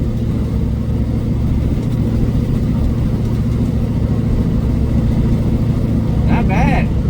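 A Satellite car's engine revs continuously, a steady loud drone rising and falling through gear shifts, close up from inside the cabin with a brief higher whine near the end.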